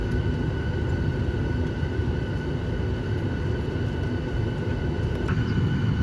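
Airliner cabin before takeoff, filled with a steady, loud, low engine and ventilation drone that holds even throughout, with no voices.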